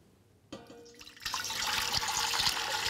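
Water for lentil soup pours from a jug into a pot. A soft clunk and trickle start it, then a steady, fairly close rushing pour builds and holds to the end.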